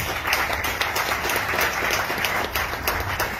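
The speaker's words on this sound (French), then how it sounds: "Il faut l'applaudir très fort." A crowd at a political rally of the CAP-Côte d'Ivoire opposition coalition claps loudly, a dense, sustained roar of many hands that fills the whole stretch without pause.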